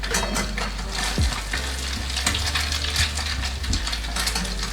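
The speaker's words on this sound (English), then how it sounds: "Now we're just frying it up as if you're making a grilled cheese" A Monte Cristo sandwich fries in a pan like a grilled cheese, giving a steady close sizzle with occasional clinks and scrapes of a utensil, no talking.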